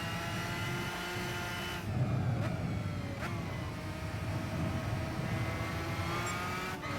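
Lamborghini Gallardo engine in Gran Turismo 5 screaming at high revs, with a few sharp gear-change dips and continuous loud, buzzy racing drone throughout.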